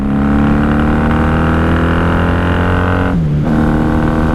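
A 1994 Honda Magna 750 motorcycle on stock snow-baffle pipes accelerates with a loud, steady engine drone whose pitch climbs, then dips briefly during a gear shift before pulling again.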